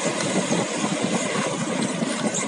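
A jet ski engine drones steadily at close range, a loud, continuous mid-pitched roar with slight revving fluctuations and no speech.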